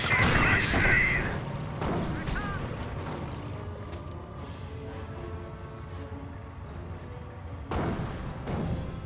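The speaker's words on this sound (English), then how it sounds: "251 half track now pulling in field, and 180 gun firing away." Gunfire from a 180 gun in the World War II strategy game Company of Heroes 1, alongside a 251 half-track: a few heavy booming shots spaced several seconds apart, with mechanical clatter and battlefield rumble between them.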